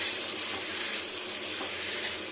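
Egg and cauliflower roast masala sizzling and frying in a pan as it is stirred, a close, steady crackling hiss with faint scrapes of the spoon and no talking.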